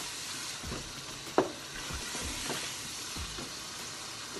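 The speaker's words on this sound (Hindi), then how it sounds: "अब तकरीबन 2 मिनट हो गए इसको भूनते हुए, मसाले हमारे अच्छे से भून गए हैं" Spices being fried in a pan for aloo qeema, a continuous close sizzle with periodic scraping stirs and one sharp clink of a utensil.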